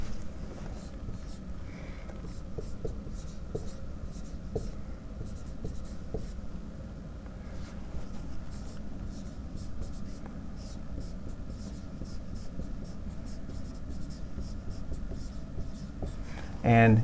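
Pen or marker scratching steadily across a writing surface while a chemistry reaction is written out, a dense continuous scribbling with small taps, fairly close and alone.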